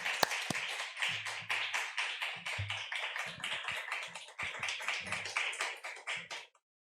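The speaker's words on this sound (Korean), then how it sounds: "우리 환영하는 마음으로 박수로 앞으로 모시겠습니다." Congregation at a Sunday afternoon church service clapping in welcome for a pastor, a brisk rhythmic run of sharp, close handclaps lasting several seconds before stopping abruptly.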